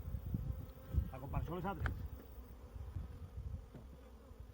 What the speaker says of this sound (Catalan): Tenim moltes abelles a la part de fora ventilant.